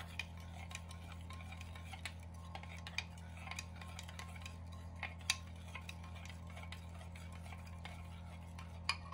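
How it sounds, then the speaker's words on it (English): Sweet and sour sauce with ketchup being mixed in a bowl, with a steady run of faint clinking and tapping utensil strokes over a low constant hum. "And just mix that all up."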